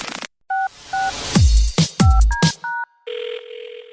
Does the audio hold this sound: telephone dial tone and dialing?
yes